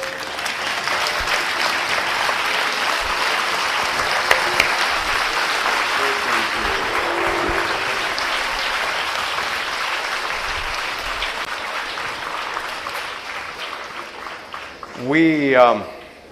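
Sustained, dense audience applause fills a hall during a speech event, steady and loud for most of its length before fading, with a voice rising briefly at the very end.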